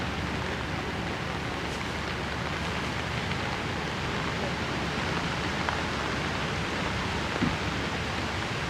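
Steady, dense rain falls on a golf course at Oakmont during a women's final round, a constant wash of hiss with no gaps, filling the whole stretch without voices.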